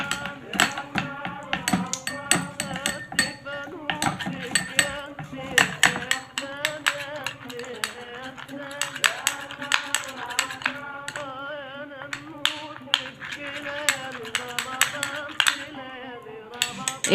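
A spoon clinks rapidly and repeatedly against a bowl while lemon juice dressing with olive oil and honey is mixed, giving a busy, bright tapping rhythm that runs throughout at close range.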